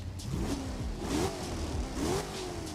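Supercars racing car engine in a racing video game, revving hard with rising and falling pitch sweeps through gear changes, loud and close with no talk.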